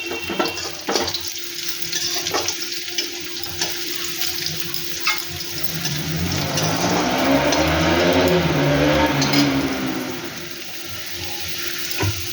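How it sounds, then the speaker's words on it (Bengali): Teasel gourd pieces and jackfruit seeds frying in a pan, a steady loud sizzle with occasional stirring clinks, swelling louder in the middle before easing back, no voices. "কাঁঠালের বিচি আর কাঁকরোল ভাজতে একটু টাইম তো লাগবে।"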